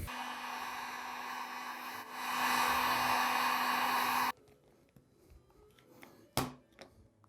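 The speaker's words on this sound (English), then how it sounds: "The other thing you can do with these is get your handy dandy heat gun." A handheld heat gun softens a plastic lithophane ornament, a steady whirring blast for about four seconds that grows louder midway, then cuts off, followed by faint handling clicks and a sharp knock.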